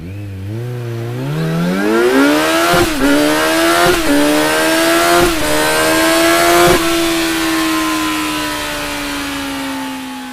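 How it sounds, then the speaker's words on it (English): A Kawasaki Z900 inline-4 fitted with an Akrapovic exhaust revs up from idle, its pitch climbing into a loud, rasping wail with several quick throttle blips, then holding a high steady note. "let's hear how the Z's inline-4 engine sounds with the Akrapovic exhaust installed"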